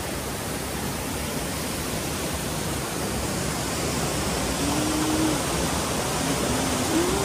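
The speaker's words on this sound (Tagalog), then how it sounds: "ang napakagandang waterfall" A waterfall on a stream trek gives a constant, dense roar of rushing water, close and steady throughout with no breaks.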